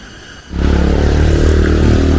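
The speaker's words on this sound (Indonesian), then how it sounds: "Itu juga yang lewat motor-motor petani ya." Motorcycles ridden by farmers pass along a track through rice fields in a remote forested area. Quiet ambience gives way to a loud, close engine drone that rises suddenly and holds steady to the end.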